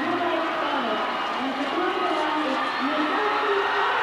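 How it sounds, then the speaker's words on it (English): Steady roar of a large indoor crowd cheering at the 1991 short track speed skating world championships in Sydney, a constant wash of noise beneath a commentator talking. "listen to the crowd here"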